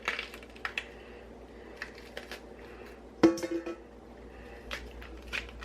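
A knife cutting bell peppers in half on a cutting board, a few sparse taps and crunchy slices with one sharper thump in the middle, close and quiet.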